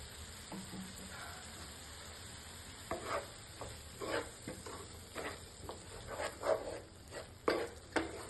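Masala of coriander powder, garam masala and pepper fries over a low flame, a soft sizzle under spoon scrapes and stirring knocks against the pan that grow louder and more frequent in the second half.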